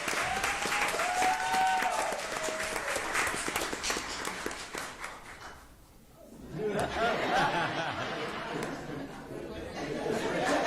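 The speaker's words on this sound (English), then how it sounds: "Please give a round of applause to all of our B-rated schools." Applause fills the room at a Jackson Public Schools board meeting, mixed with chatter and chuckles. It dies away briefly midway, then swells again into renewed clapping.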